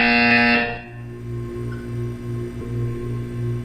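Buzzer from the video game Portal 2, a harsh tonal blast that cuts off after about half a second, leaving a low pulsing hum beneath.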